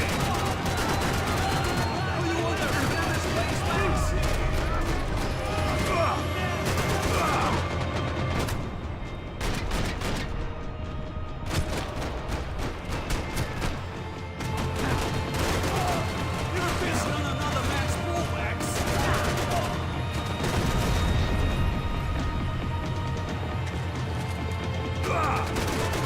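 Max Payne 3 gunfight with rapid, dense bursts of gunshots and crashing impacts running almost continuously and loudly, while someone talks over the shooting.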